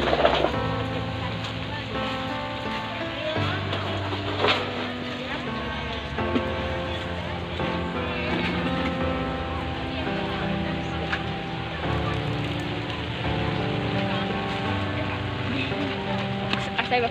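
Rain falls steadily on surfaces at an open-air weekend market in Papar, making a continuous hiss. Voices, bits of music and soft dove coos are mixed in over it.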